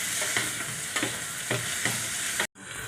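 Tomatoes sizzle with onions and carrots inside an electric kettle, a steady close fry broken by regular stirring scrapes, then a brief cut to silence before the sizzle resumes.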